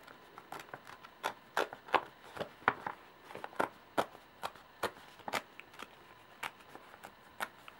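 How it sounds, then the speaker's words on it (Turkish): A paper envelope with something along its edges is opened by hand, a series of crisp, separate tearing and crinkling snaps at uneven intervals, close and alone. "Şu şekilde bir tane zarf. Kenarlarında bir şey var. Hemen açıyorum."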